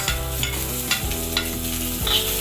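Ginger and onion sauté in a pan, with a steady sizzle and repeated spoon scrapes stirring them, heard under a tonal hum in the background, with no voices.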